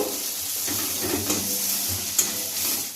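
Ground spices, including chili powder and turmeric, sizzle and fry in hot oil in a pan for an egg mustard curry, a close, steady hiss with a few stirring scrapes and one sharp clink.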